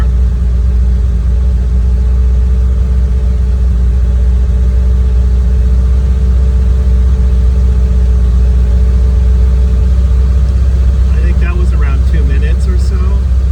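A car engine idles steadily after a cold startup, a loud continuous low hum and rumble that holds through the whole clip, with a voice talking briefly near the end.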